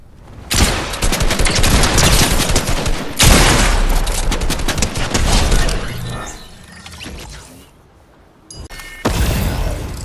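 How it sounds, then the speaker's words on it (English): Dense bursts of video game gunfire blaze in long, loud volleys, a brief lull halfway through before the rapid shooting starts up again. "We all went in there and just like stayed there and just started shooting at our team"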